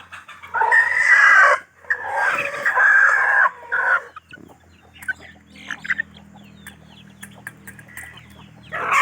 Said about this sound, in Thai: ปล่อยเลี้ยงเป็นไก่บ้านไหมครับ